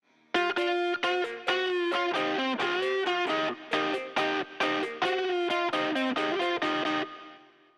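A distorted electric rock guitar plays a fast, bending solo line in bursts, with sidechained reverb tails that swell in the gaps and ring out at the end.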